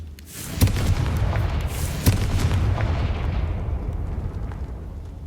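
Fiery blasts from the Confringo spell in Hogwarts Legacy, two sharp booming bursts over a dense crackling, rumbling roar of burning objects that slowly fades, with no talking.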